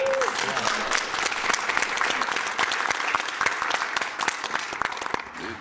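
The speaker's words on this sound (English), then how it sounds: "That's a clap." Steady audience clapping at a live speedrun event for The Legend of Zelda: Link's Awakening DX, a dense crowd applauding throughout at moderate loudness, with a brief tone at the start and faint voices underneath.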